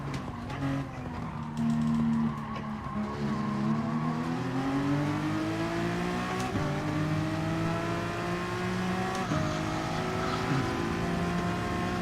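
A race car in Gran Turismo 7 accelerates through a steady climbing engine whine, shifting gears a couple of times, with faint tire squeal mixed in, loud and continuous.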